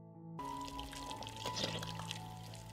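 Peppers lowered into a freshly boiled marinade dressing, giving a quiet liquid pouring and sloshing sound over a low steady hum, with no voices.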